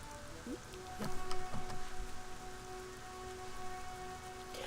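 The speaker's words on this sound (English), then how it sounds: "it's raining. I'm in a raining area." Steady rain falls in an outdoor area of the online role-playing game Black Desert Online, a soft continuous patter with a few faint drips and a low hum beneath it.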